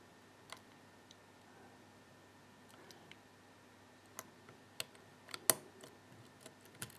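Small, sharp clicks from a lock pick working inside the "Bill BACARDI #44" challenge lock, sparse and irregular over a quiet background, a few louder ticks bunched near the end, no speech.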